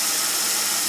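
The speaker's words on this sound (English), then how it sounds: "you can see my engine's just a little bit idle and rough" The 4.0 engine of a 2004 Jeep Grand Cherokee WJ idles roughly, a steady dense hum with a faintly uneven texture, close and continuous with no voices.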